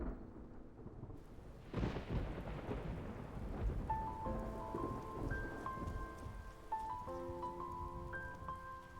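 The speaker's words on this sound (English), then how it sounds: "It's raining!" A rainstorm in the video game Love and Deepspace, with a deep rolling thunder rumble and a steady patter of rain, later joined by soft melodic tones over the downpour.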